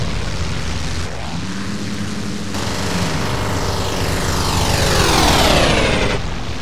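Fighter aircraft engines in IL-2 Sturmovik, set on the WWII Eastern Front near Smolensk in 1941: a loud continuous propeller-engine roar with a plane sweeping past, its pitch sliding downward near the end, without talk.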